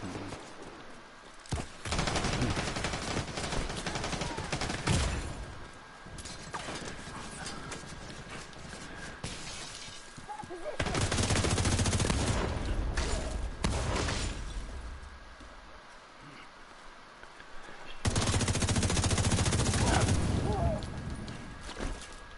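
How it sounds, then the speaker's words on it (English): Bursts of rapid SMG fire from a PS4 video game come in two loud, sustained volleys separated by quieter stretches of in-game noise. "So yeah, I'm using the SMG."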